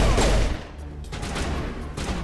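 Pistol gunfire in the video game Mass Effect: a loud burst of shots at the start, then a quieter stretch and another crack near the end.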